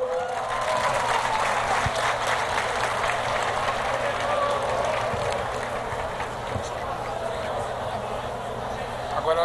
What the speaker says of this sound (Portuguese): quero que vocês recebam com a salva de palmas